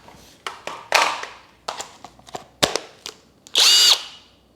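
NRT PRO DC740 cordless brushless compact drill, fully charged, giving a string of short bursts and taps before one loud, steady whirring run of about half a second near the end.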